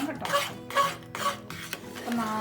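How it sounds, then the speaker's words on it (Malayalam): A spoon scrapes and stirs thick kallappam batter cooking in a pot, in repeated rhythmic strokes with light metallic contact against the pot's sides. "നന്നായിട്ട് കുറുകി വരുന്നതിന് വരെ നമുക്കിതൊന്ന് ഇളക്കി കൊടുക്കണം കേട്ടോ"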